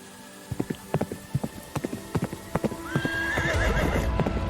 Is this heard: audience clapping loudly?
no